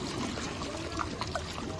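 Water poured into a biryani pot, a steady close trickling pour running through the short moment with faint clinks over it and no voices.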